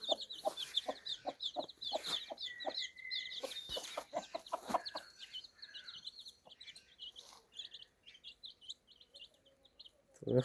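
Chickens and chicks clucking close by, with busy overlapping clucks and high peeping chirps that grow sparser after the first few seconds.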